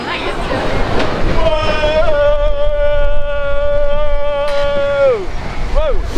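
Big Thunder Mountain mine train roller coaster at Magic Kingdom rumbles and rattles loudly along the track, while a long sustained high tone holds and then bends downward, with voices over the ride noise.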